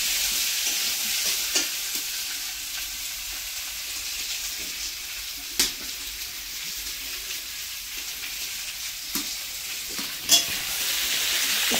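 Food sizzles steadily as it fries in a village kitchen in northern Bengal, with soft stirring scrapes and a few sharp clinks of utensils over a continuous hiss.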